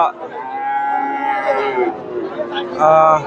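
Young Friesian cattle moo loudly at Hasokhali cattle market in Bogura: one long, wavering low call, then a second shorter moo after a pause, with faint voices behind.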